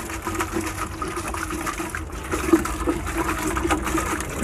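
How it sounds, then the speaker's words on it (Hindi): Tap water runs and splashes steadily while a bottle is rinsed inside and out, with continuous gushing and sloshing close by. "इस बोतल को भी धो लें ऊपर से अंदर से अच्छी तरह से धो लें"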